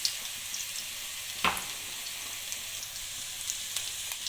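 Ginger garlic paste frying in a few spoonfuls of hot oil gives a steady, close hiss with a crackling texture, plus one brief clatter partway through and no voices.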